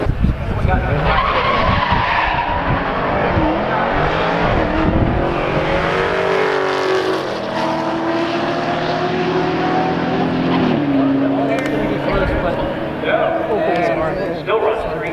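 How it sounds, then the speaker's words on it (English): A race car accelerates hard through its gears at a drag strip callout race, engine note climbing and dropping with each shift, loud and continuous alongside tire noise, with a voice talking over it. "Running through the gears"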